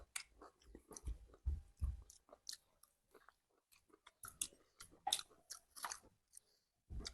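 Someone eats a giant four-kilo fish with close, wet chewing and occasional crunchy bites, irregular bursts of mastication separated by short pauses, with no talking.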